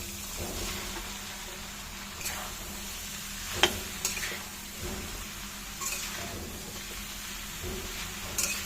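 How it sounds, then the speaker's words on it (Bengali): Chopped bottle gourd goes into hot spiced oil in a pan for a vegetarian ghonto, giving a soft, steady sizzle with occasional spatula clicks and stirring, quiet and close, with no talking. "এখন আমি দিয়ে দেবো এখানে টুকরো করে কেটে রাখা লাউগুলো।"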